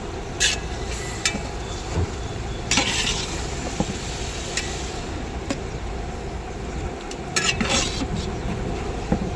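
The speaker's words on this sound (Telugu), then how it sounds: "మధ్య మధ్యలో ఇలా అయితే తిప్పుతూ ఉండాలి మాడిపోకుండా" Eggplant and tomato curry fries in a pan at a family dhaba, stirred now and then with scraping taps of the spoon over a steady low sizzle, close by.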